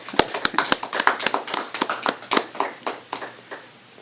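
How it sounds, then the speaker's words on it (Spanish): Audience applause for a mother and her son on a Spanish-language program: a small group's distinct, close claps in an uneven rhythm, thinning out toward the end. "Vamos a darle un aplauso a usted y a su hijo."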